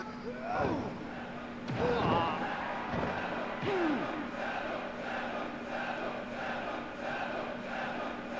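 Crowd chanting in the PS1 wrestling game ECW Hardcore Revolution, a steady, looping wall of crowd voices with a rhythmic chant pulse, mixed with occasional sliding shouts and thuds from the match.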